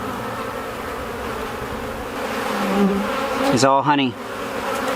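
Honeybees swarm in a steady, close drone around an opened backyard hive, the buzz swelling as individual bees fly near, with someone briefly speaking over it.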